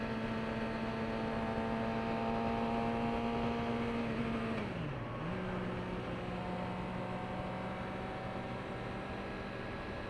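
A 2018 Suzuki GSX-R 600 sport motorcycle hums with a steady engine tone, then the pitch dips briefly and settles lower, like a gear change, under constant wind rush; no talk.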